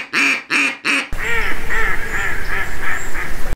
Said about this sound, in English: I just may do just a quack.